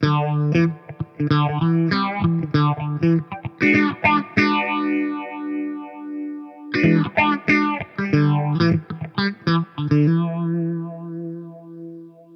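A Beetronics Larva phaser pedal on a distorted guitar switches from its first to its second phaser mode, with loud strummed chords and sustained notes swirling under a sweeping, modulated wash, a short gap near the middle, then chopped rhythmic playing.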